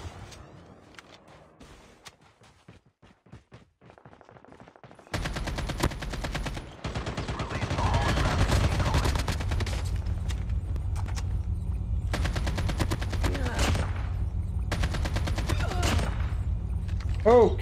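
Video game gunfire crackles in rapid automatic bursts and single shots, loud and sustained after a quiet opening, with a player talking intermittently over it.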